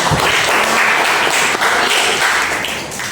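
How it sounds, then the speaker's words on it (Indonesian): A classroom full of students claps together, a dense, steady burst of applause that fades slightly at the end. "Tepuk tangan untuk Rehan"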